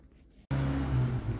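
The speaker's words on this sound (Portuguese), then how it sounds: "Olha o barulho do carro passando." A car passes nearby outdoors. Its broad engine and road noise rises abruptly out of quiet and holds steady and loud to the end.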